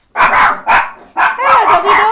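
Dogs barking close by in a few loud, quick bursts, with a short pause before a longer run of yelping barks.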